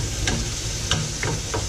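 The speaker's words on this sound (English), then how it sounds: "gonna continue frying a bit." Steady crackling sizzle of food frying in a pan, with a few soft clinks of a utensil stirring now and then, close by.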